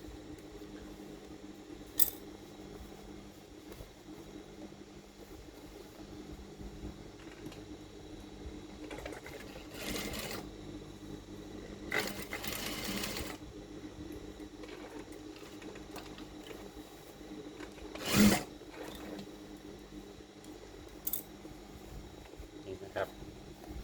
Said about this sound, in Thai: จากนั้นเราก็เย็บออกอย่างนี้เลยนะครับ